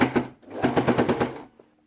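Sewing machine stitching a fabric shopping bag, its needle hammering in quick rhythmic bursts: a short run, a brief pause, then a longer steady stretch that winds down and stops, close and clear.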